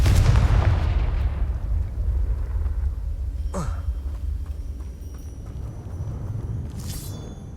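A Confringo blasting spell in Hogwarts Legacy, a loud low boom that decays over a couple of seconds, followed by quieter whooshing magical effects and faint game ambience.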